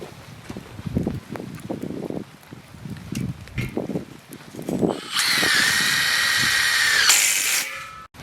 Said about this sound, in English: The joints are anchored by self-tapping screws,